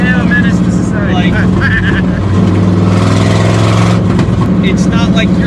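A loud, big engine rumbles and revs with crackling pops, heard close up from inside the car while people talk over the noise.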